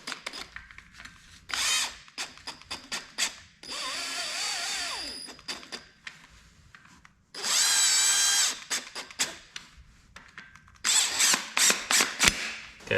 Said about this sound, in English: I'm just gonna snug them up with the impact,